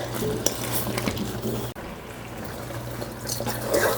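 Liquid sounds from a pot of Antiguan pepperpot with about a cup of water just added, a steady bubbling, stirring wash close up, with a brief break partway through and a livelier stretch near the end.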